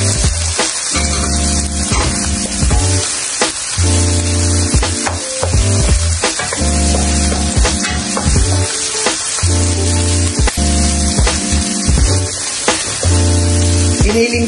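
Onion and ground pork sautéing in a pan, a loud continuous close sizzle and crackle of frying fat with occasional scrapes of stirring throughout.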